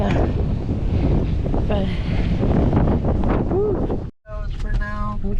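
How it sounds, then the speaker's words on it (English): Strong wind buffets the microphone in a steady roar on a highway roadside, with a voice talking over it and a brief dropout near the end. "It's really windy, yeah."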